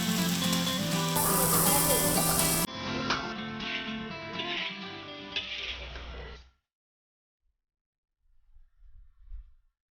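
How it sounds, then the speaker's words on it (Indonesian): Dragon fruit peel stir-fried with spices and green beans in a pan, a dense sizzle with stirring clatter for several seconds before cutting to near silence, then a few faint low thumps near the end. "kulit buah naga pun ditumis bersama bumbu dan diberi tambahan buncis hingga bumbu meresap serta sedikit layu"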